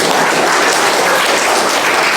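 A church audience applauds steadily at a jubilee thanksgiving Mass of the SVD Java Province, a dense, even wash of clapping that holds at full volume throughout with no voices breaking through.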